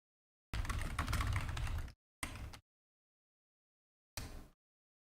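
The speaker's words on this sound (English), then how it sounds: "Oh, typing right now." Typing on a computer keyboard at a desk, a dense burst of clicking keystrokes for over a second followed by two shorter bursts separated by silence, close and fairly clear with no talking.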